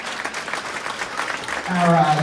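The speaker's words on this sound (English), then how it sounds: "Let's give a big round of applause for our video crew in the back that's videotaping the event tonight" Applause from an audience at a middle school winter concert, a broad steady wash of clapping with a voice over it, rising a little louder near the end.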